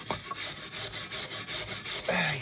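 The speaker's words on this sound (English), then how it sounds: "It's just a matter of getting all the rust off, and old paint for that matter." Steady rasping scrub against a rusty Stanley No78 rebate plane, stripping rust and old paint in quick back-and-forth strokes, close and continuous.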